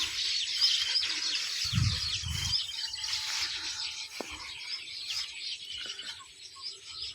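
House sparrows chirp in a backyard, a dense, continuous chatter of many small birds at moderate distance. A brief low thump and a few isolated calls rise above the steady twittering.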